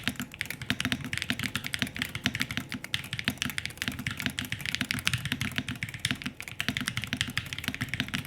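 Steady, dense typing on a gasket-mount HE keyboard, soft muted key presses in a continuous close rhythm with no pauses or talk.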